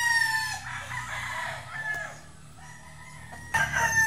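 A rooster on a gamefowl farm crows loudly and close by in drawn-out calls, with clucking and other fowl in the background and a fresh crow breaking in near the end.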